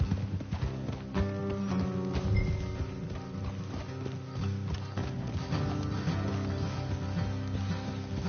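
Horse hooves clip-clop steadily in Red Dead Redemption 2, with a continuous rhythmic patter under a dense backdrop of game music and ambience, loud and close throughout.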